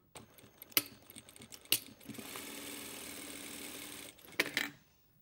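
A sewing machine back tacks along the seam of a pointed pocket flap, a steady mechanical whir running several seconds between brief clicks and knocks of handling at start and end, fairly close and alone.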